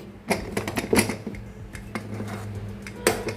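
The lid of a cooled pressure cooker holding cooked dal is opened by hand, with a few sharp metallic clacks and clinks close up, then a low rattling handling noise.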